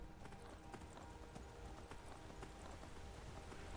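Horse hooves clip-clop steadily at a brisk, continuous rhythm in the Skyrim video game, close and clear with a faint game-world ambience behind them.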